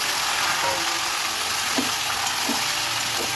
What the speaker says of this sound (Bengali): তারপর দেখো সবজিটা দিয়ে দেবো এর মধ্যে।